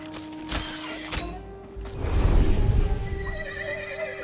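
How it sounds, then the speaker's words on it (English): A horse in the video game Titan Quest II gives a loud, close whinny that rises and trails off, preceded by a few sharp clip-clop hoof strikes, with no voices. "Not just any talking horse, the talking horse that saved your life."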